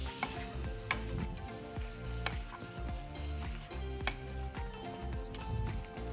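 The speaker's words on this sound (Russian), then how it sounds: "в вок добавляю немного оливкового масла и размороженные овощи" Thawed frozen vegetables (green beans, Brussels sprouts, carrot, broccoli) sizzle steadily in olive oil in a wok, a loud continuous fry with occasional ticks and clinks of stirring.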